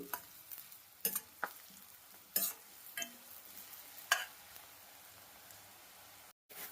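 Onions fry quietly in a pan for a broad beans and potato curry, giving a faint sizzle broken by several sharp scrapes and clinks of a spoon stirring.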